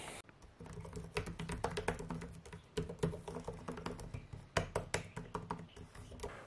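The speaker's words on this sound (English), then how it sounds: "let's do a keyboard test." Someone types quickly on an ASUS Vivobook D1402IA laptop keyboard, producing a dense run of close, crisp key clicks in uneven bursts over quiet room tone.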